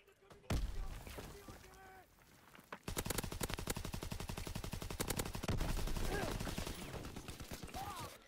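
Rapid automatic fire from a Sten submachine gun in a first-person shooter game, dense sustained bursts close and loud after an opening shot, with a voice talking over parts of the action.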